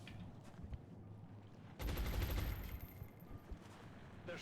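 Gunfire in the XCOM Long War video game: a sudden loud burst of rapid shots that starts partway through over low background game ambience and then tails off.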